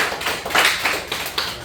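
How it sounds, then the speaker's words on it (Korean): Short burst of applause from a classroom of students, a brisk patter of hand claps rising and falling in a few uneven waves, close and fairly loud with no talking over it. "박수 한번 주십시오."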